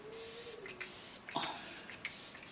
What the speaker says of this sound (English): I love the setting spray and I love the freaking little pss, pss